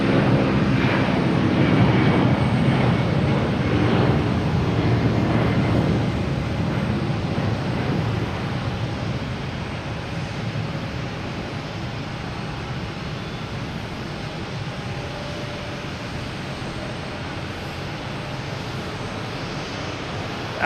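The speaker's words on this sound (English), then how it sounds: "There's Delta 757 heading to LAX." A Delta Boeing 757 airliner climbs out from Boston Logan with a broad, rumbling jet roar, loudest at first and then fading gradually as it heads off.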